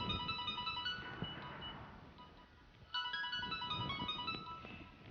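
A phone ringtone chimes in repeated melodic bursts, pausing briefly then starting again, moderately loud over a quiet background.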